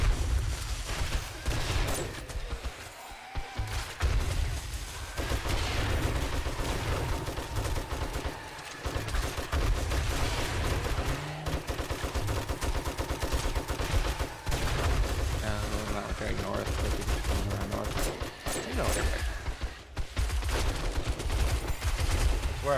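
Sustained gunfire in 7 Days to Die as players keep shooting at bomber zombies, with bursts of fusillade and machine-gun fire running nearly continuously and loud, under occasional voices.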